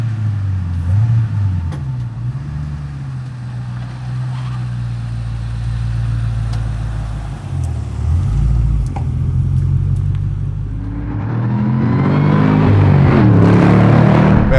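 A supercharged 700 hp Shelby GT500 Mustang by Mag Motors rumbles steadily at low revs, deep and close, then climbs into a louder, rising rev toward the end as it gets underway on a cruise.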